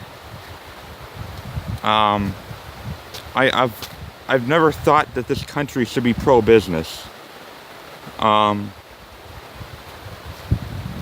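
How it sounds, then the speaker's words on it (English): A loud river rushes steadily outdoors, a continuous broadband roar that runs under a man's speech and stays clearly audible through the pauses between his phrases. "That river's kind of loud, huh?"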